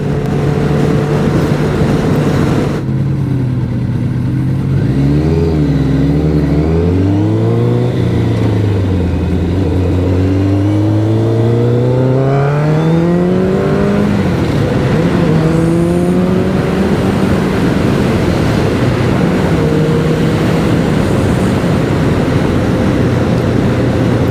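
Kawasaki Ninja ZX11 motorcycle revving up through the gears, its rising and falling engine whine repeating in several climbing pulls, loud and close with steady wind noise throughout.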